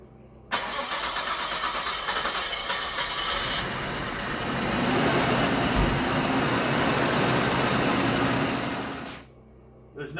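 A Nissan RB25DET engine in a 1998 Stagea starts abruptly and runs loudly and steadily from cold for several seconds, then cuts off. The running sound is a close, continuous mechanical drone.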